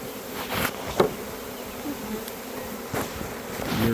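A swarm of honey bees caught in a net buzzes steadily and closely, with a dense insect hum that swells in brief louder bursts.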